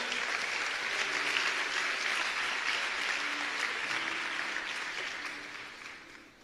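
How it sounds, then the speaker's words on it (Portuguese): A church congregation applauds with dense, steady clapping that fills the space at moderate volume, then gradually fades toward the end. "Você pode aplaudir."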